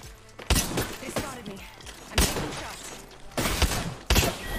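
Gunfire in a match of a first-person hero shooter, several loud bursts of rapid shots in separate clusters with sharp onsets, mixed with game effects and voices talking.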